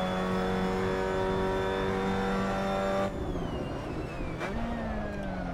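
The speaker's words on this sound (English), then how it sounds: "A little over rev right there" Mazda MX-5 Cup race car engine in Assetto Corsa at Paul Ricard, a high steady rev that holds near the limit, then drops abruptly and climbs again after a quick shift, loud and close.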